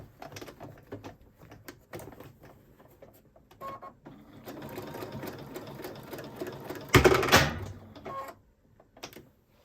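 Sewing machine stitching free-motion embroidery to tack down an applique on a shirt, running in short close bursts and stops, with one louder, denser run near the end.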